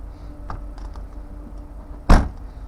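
A 2017 Mercedes E-Class boot lid is pulled shut by hand, giving one loud, solid thump near the end after a few faint clicks and light handling noises.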